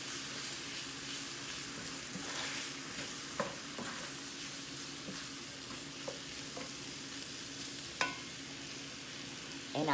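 Mushrooms sauté in a greased pan for hamburger stroganoff, a soft steady sizzle with occasional sharp clinks and scrapes of a utensil stirring, no voices.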